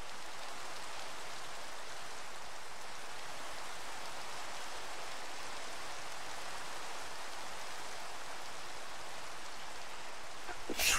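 Steady rain falls in a broad, even hiss across a Minecraft castle build, unbroken for the whole stretch with no voices over it.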